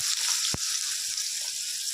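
Steady hissing sizzle of onions frying in hot oil, close up, with a brief stir or clatter near the start.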